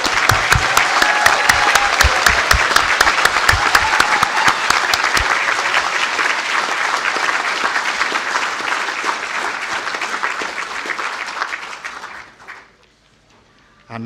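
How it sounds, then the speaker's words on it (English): An audience applauds graduates at an ATU conferring ceremony, a loud sustained clapping from a large indoor crowd, starting with crisp individual claps, then thinning and stopping near the end. "very well-earned round of applause"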